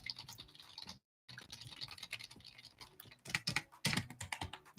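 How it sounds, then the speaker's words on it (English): Computer keys struck rapidly and at random, a dense run of clicks and clacks that pauses briefly near the start, then grows louder and busier toward the end, with no talking. "the sound of me hitting every single key on the keyboard, trying to figure out how the hell to get rid of this"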